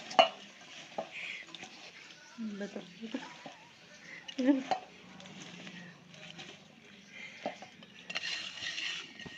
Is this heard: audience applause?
no